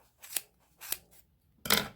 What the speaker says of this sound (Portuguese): Tesoura no meio do papel. Pra cortar aqui em cima